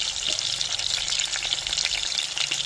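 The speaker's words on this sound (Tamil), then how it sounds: "வெட்டி வச்ச பெரிய வெங்காயத்தையும் சேர்த்துக்கிறோம் ஒரு மூணு பச்சை மிளகா சேர்த்துக்கணும்" Chopped large onions and green chillies frying for a fish curry, a busy close crackling sizzle with some stirring, steady and fairly loud across the short stretch, no voices.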